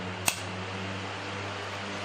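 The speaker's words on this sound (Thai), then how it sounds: "อ่าก็จะสังเกต เสียงพัดลมก็จะแรงขึ้นนะฮะ" The cooling fan of a 1500VA pure sine wave inverter with a toroidal transformer whirs steadily with a low electrical hum, broken by a single sharp click near the start.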